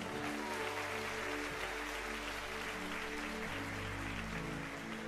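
A church congregation applauds continuously through the whole stretch, a dense steady wash of clapping with a low hum of voices underneath.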